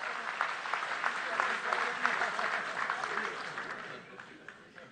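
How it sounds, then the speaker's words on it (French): An audience claps through a political speech at the MoDem summer university. The applause is dense and sustained, then thins and fades toward the end. "Vous êtes gentil d'applaudir sur ce sujet."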